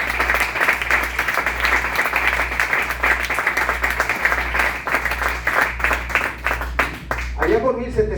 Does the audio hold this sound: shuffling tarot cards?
no